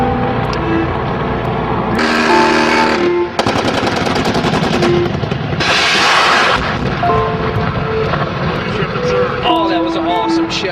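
Rapid bursts of video-game gunfire in an Arctic survival setting, loud dense volleys with heavy booming blasts, repeating through the scene under a constant rumbling game soundscape.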